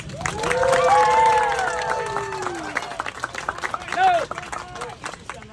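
A Renaissance Faire crowd at an outdoor comic Shakespeare show claps and cheers, with loud shouting voices over the clapping early on before the noise thins into scattered claps and chatter.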